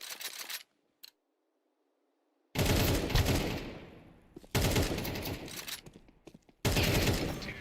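Shooter video game firefight with bursts of rapid gunfire, a short clip of fire, a gap of silence, then three loud, dense volleys separated by brief pauses, close and alone without talk.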